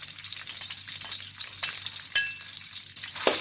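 Thai curry paste and shrimp paste stir-frying in oil over medium heat for a southern-style pork rib curry, a close, crackling sizzle with bursts of spatula scraping.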